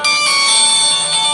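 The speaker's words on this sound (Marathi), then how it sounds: "आता या मोबाईलवरती थोड्या वेळात फोन येणार" A mobile phone rings loudly and close, a steady bright electronic tone held throughout, as an incoming call from a farm pump controller reports a phase fault shutdown.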